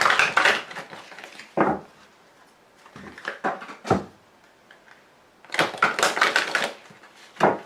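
Oracle cards being handled and dropped on a table, with irregular crisp slaps and clattering taps in short clusters and isolated single knocks separated by quiet pauses.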